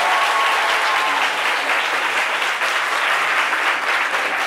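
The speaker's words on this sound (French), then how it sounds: "On l'applaudit très fort pour Sofoni." A TV studio audience on a Valentine's Day talk show applauds a guest named Sofoni with a loud, thick, continuous wash of clapping that holds steady throughout.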